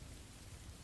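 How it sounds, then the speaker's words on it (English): Rain and rolling thunder from a thunderstorm recording play steadily in the background, a soft, continuous low rumble with dense patter, faint and even throughout with no one talking. "Playing Thunderstorm in the background is hard."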